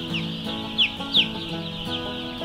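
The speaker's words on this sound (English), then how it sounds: "Look at all the chicks." A crowd of chicks in a brooder keeps up a steady chorus of high, thin peeping, with a few louder chirps standing out above a constant low hum.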